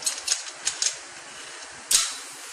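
A proximity-sensor braking system prototype braking at slow speed gives a few quick mechanical clicks and rattles, then a sharper burst near the end, over a steady whirring hum.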